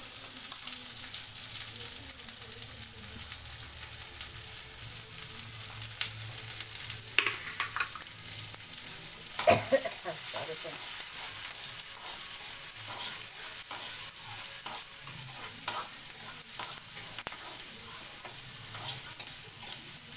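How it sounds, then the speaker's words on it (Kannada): Onion and curry leaves fry together in a pan for egg bhurji, giving a constant soft sizzle with occasional scraping stirs and one louder clatter partway through, close and steady. "ಈರುಳ್ಳಿ ಕರಿಬೇವು ಒಟ್ಟಿಗೆ ಹಾಕ್ತಾಯಿದ್ದೀನಿ"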